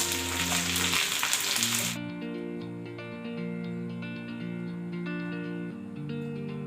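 Capsicum, pointed gourd, eggplant and fried potato frying together in a pan, with a loud steady sizzle that drops to a softer, continuous crackle after two seconds.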